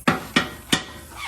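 A hammer strikes metal three times on a 2001–2005 Lexus IS300 suspension while knocking a ball joint loose: sharp, close, ringing blows about a third of a second apart.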